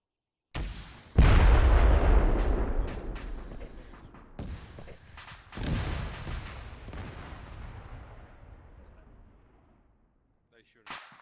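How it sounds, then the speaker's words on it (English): A shoulder-fired rocket launcher fires during army infantry training: one heavy, close blast, then a long rumbling decay that fades over several seconds, with a second sharp report partway through. "Rocket."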